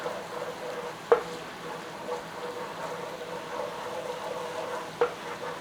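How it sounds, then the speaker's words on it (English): Whole spices hit hot oil in a pan for chicken changezi and sizzle steadily at a moderate level, with a couple of sharp clinks of a utensil against the pan and no talk. "we're going in there with our spices"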